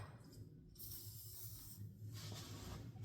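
An aerosol can of WD-40 lubricant hisses in steady bursts onto a rusty Ford 8.8 rear axle, a brief pause near the start and a second lull midway before the spray resumes, close and fairly loud.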